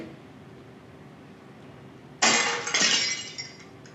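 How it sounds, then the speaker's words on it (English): A plate glass window breaking into shards: a sudden loud crash after a quiet start, followed by a second burst and scattered tinkling pieces falling and settling over the next second or so, with no talking. "I can hear it's a plate glass window. It's broken into shards."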